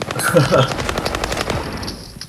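Rapid machine gun fire in Call of Duty Modern Warfare, loud bursts crackling through the first second and a half, mixed with game effects and a voice talking over it before fading.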